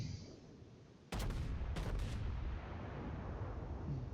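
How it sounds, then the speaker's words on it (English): The Yamato battleship fires high-explosive shells in World of Warships: one sudden, heavy blast, then two more booming shots in close succession, leaving a loud rolling rumble afterward. "the enemy Yamato is firing high explosive"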